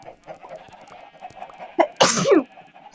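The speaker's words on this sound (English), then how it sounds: "Excuse me, I'm so sorry, I just sneezed." A single sharp human sneeze, loud and close, bursts out over a faint bed of clucking chickens and murmuring background sound.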